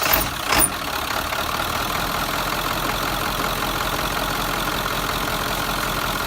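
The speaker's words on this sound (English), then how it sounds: "So we're going to start her up right now with approximately 15 quarts" A 1997 Ford F350 truck with a 7.3L diesel engine idles after a sharp start-up burst, settling into a steady, close rumbling clatter that continues evenly, with no voices.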